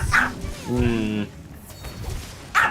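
Small, yappy Pomeranian dog giving a few sharp barks and yips with whimpering in between, close by, with a person talking over parts of it.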